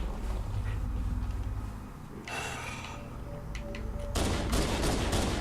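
Shotgun blasts in Halo: Combat Evolved Anniversary, heavy bursts amid dense game combat noise, with a loud burst near the end.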